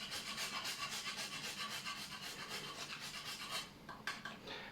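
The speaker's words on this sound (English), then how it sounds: "the garnish should be some grated nutmeg on top" Nutmeg grated by hand over a coffee and rum drink, a steady run of close, dry rasping strokes that falters and thins into a few lighter scrapes near the end.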